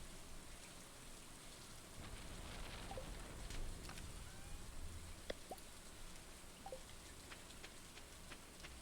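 Rain falling in Stardew Valley, a steady soft hiss of rainfall with occasional faint drips and taps, quiet and continuous with no talking.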